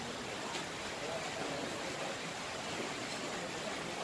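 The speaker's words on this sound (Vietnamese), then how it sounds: "Trời đang mưa lâm râm luôn." Light rain hisses steadily and evenly, a soft continuous patter with no other sounds standing out.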